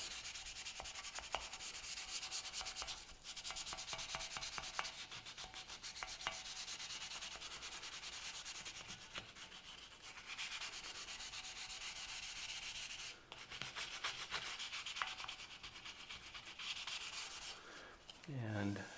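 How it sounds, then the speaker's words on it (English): Abrasive paper at 600 to 1000 grit is rubbed wet over a primed 1940s Preway 4521A wedge camp stove, producing a continuous close scrubbing rasp in brisk back-and-forth strokes with brief pauses and no talk. "So find a logical place to start on this and just start sanding."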